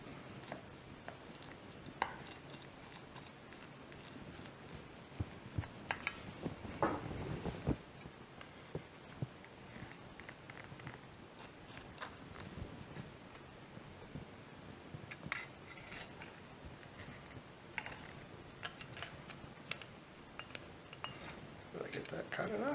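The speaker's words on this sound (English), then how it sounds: "Let's see if we can cut a slice." A knife cuts a slice of homemade cornbread in a cast iron skillet, producing faint, scattered scraping and soft clinks of metal on iron, with a few louder taps near the start and middle, recorded quietly and close.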